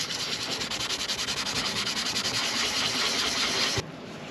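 A high-grit pad rubs back and forth over a cloudy plastic solar light lens in quick, even strokes, close and steady, then stops abruptly.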